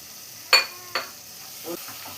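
Three tomatoes, cut thick and lengthwise, tipped into a hot pan, with a sharp burst of sizzle followed by a second hit and then quieter stirring scrapes against a faint background hiss.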